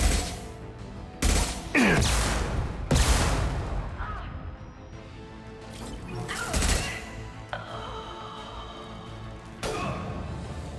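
Rifle fire in Mass Effect 2, several loud, sharp single shots spaced a second or more apart with booming tails and lingering echoes.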